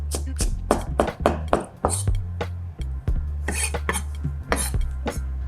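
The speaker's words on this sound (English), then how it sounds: "So we chop a small portion." Knife chops vegetables on a board in a home kitchen, a rapid run of sharp close taps and clatters with an uneven rhythm, sounding alone without speech.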